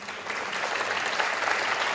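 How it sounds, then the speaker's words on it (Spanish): Audience applause at an international circular economy forum, welcoming a panel moderator: steady, dense clapping from a sizeable crowd with no voices over it. "La recibimos, por supuesto, con fuertes aplausos."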